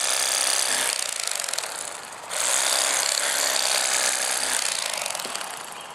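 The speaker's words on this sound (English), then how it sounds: "that's a big advantage of an electric knife, and it's so much faster and easier to cut through the ribs" A Bubba Blade electric fillet knife cuts through the ribs of a channel catfish with a loud, buzzing, rattling motor whine. It runs almost continuously, dipping briefly in the middle before resuming close up.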